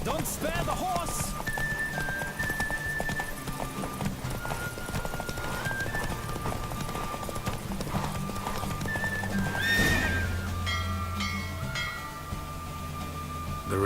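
In The Witcher 3 video game, a horse gallops in a steady clip-clop rhythm during a race, neighing and whinnying over a continuous bed of game music and ambience.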